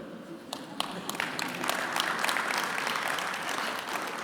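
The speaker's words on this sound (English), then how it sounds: "thank you for applauding the ugliness part" Applause from a summit audience at an open mic builds from a few scattered claps into a full, steady round of clapping that holds at moderate loudness.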